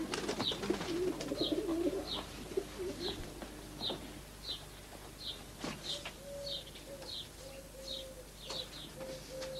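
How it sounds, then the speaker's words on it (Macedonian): Pigeons coo steadily at moderate distance, with short, regular bursts that sound like wingbeats or fluttering running through the whole stretch. No voices are heard. "Ја ќе ти покажам голубите."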